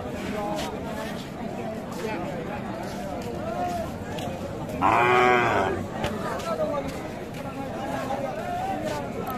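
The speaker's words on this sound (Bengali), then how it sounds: "এই যে গাভী, সাথে এই যে বাচ্চা।" A native dairy cow with her calf at a Bangladeshi cattle market gives one loud, drawn-out moo in the middle, rising over steady crowd chatter and talk that run throughout.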